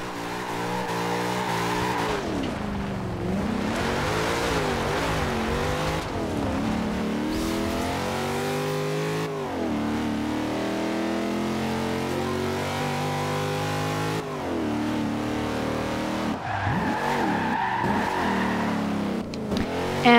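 Corvette C7 drifting in Forza Horizon 2, a loud continuous engine note rising and falling through revs and gear changes, with sustained tire squeal and skidding through the slides.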